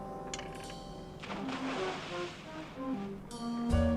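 Water and waves wash around a boat out in the middle of open water in a film, a soft broadband surge that rises and falls under faint tones, with no talk.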